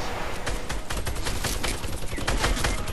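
A minigun in Fortnite fires a long, fast stream of loud, close gunshots that runs without a break for the full stretch.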